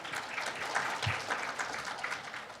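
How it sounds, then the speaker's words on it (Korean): Audience applause at a Korean media startup seminar, a steady dense wash of clapping, fairly faint and distant, with no speech. "박수 부탁드립니다."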